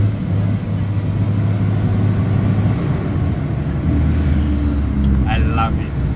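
A FAW JH6 500 hp truck engine drones steadily and loudly from the cab while driving on a rural road, a continuous low rumble with faint rattles and a brief hiss near the end.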